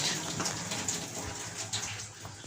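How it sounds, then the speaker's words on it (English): A household toilet flushing sends out a steady rush of swirling, gushing water that runs continuously close by, with no voices over it. "We'll see what the toilet does when I flush it."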